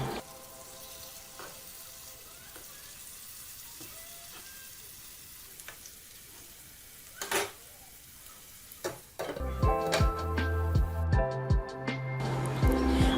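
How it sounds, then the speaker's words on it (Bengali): Ash gourd slices coated in mustard paste frying slowly on low heat in a pan, giving a soft continuous sizzle with occasional sharp clinks and scrapes of turning. The sounds grow busier and louder near the end. "কম আঁচে একটু সময় নিয়ে ভাজতে হবে, তা না হলে সরিষা পুড়ে যাবে।"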